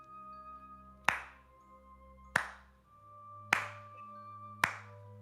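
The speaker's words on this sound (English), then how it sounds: "And then all of you begin to hear clapping." Four slow, deliberate hand claps ring out one at a time, about a second apart, each a sharp crack with a short echo over a sustained, low musical drone in a quiet room.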